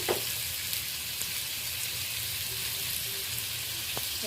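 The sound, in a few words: potatoes frying in oil with turmeric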